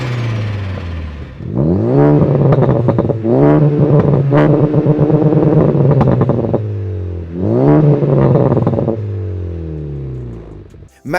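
Two modified Honda Civic Type R cars, a turbocharged EP3 and a stage 2 FK8, revving hard in repeated loud bursts, engines climbing and falling with rasping intake and exhaust notes and pauses between pulls.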